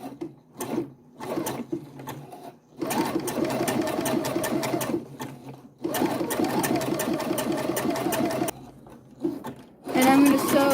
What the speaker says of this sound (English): I'm going to sew actually just a little bit past the hole